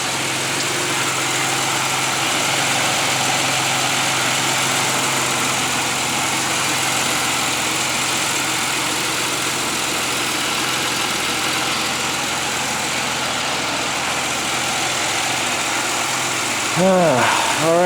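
A 2008 Pontiac Grand Prix engine idles steadily and loudly throughout after mass air flow sensor and throttle body cleaning, a smooth continuous rumble with a brief shift near the end.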